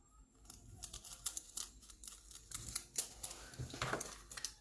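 Scissors snipping and handling thin craft foil for an animal print project, a quiet series of crisp clicks, rustles and crinkles at close range, irregular and light, with no talking.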